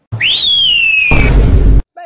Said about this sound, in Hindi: भाई यार, ऐसी सीटी बजानी मुझे नहीं आती